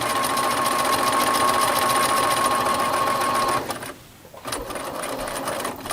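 A sewing machine stitches a fabric face mask, running steadily and loudly for several seconds, stopping briefly, then starting up again.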